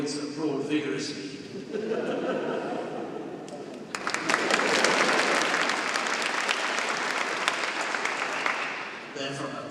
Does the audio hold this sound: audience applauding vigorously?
yes